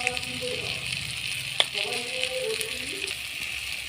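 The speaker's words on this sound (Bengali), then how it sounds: "সবজিটা আমার ভালো ভালো করে ভাজা ভাজা হয়ে গেছে" A pan sizzles steadily with oil crackling as vegetables with thankuni leaves fry, while a person talks over it and a utensil clinks once.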